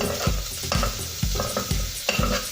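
Chopped onion hits a hot pan and sizzles loudly as it is stirred, with steady scraping strokes about twice a second over a continuous frying hiss and no talking.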